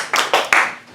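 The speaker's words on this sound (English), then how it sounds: "Another round of applause for everybody that's been up here this evening." A few scattered hand claps from a small comedy show audience, three or four distinct close claps fading quickly, with no voices.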